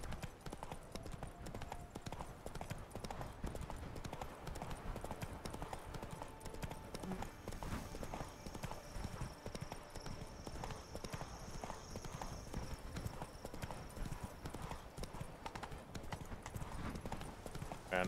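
Horse hooves clip-clop steadily in the Witcher 3 video game, a quiet continuous rhythmic trot running for the full stretch with faint game ambience behind it.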